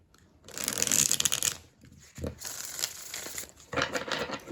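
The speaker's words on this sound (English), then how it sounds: "Let's see how they shuffle. They feel pretty good in my hands. Easy for me to shuffle like this." Tarot cards are shuffled close up in several quick, smooth riffling bursts, with brief pauses between them.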